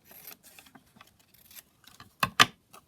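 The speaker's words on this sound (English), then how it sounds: "here I will just snip off this little bit here" Scissors snip a small piece off material: two crisp cuts close together near the end, after faint rustling and handling noises, close and fairly quiet.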